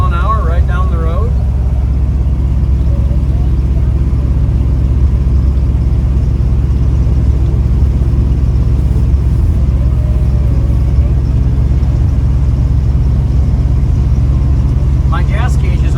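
Steady low engine rumble and road noise from a 1972 Chevrolet C10 short bed pickup cruising at 60 mph, continuous and close, with faint voices briefly at the start and end.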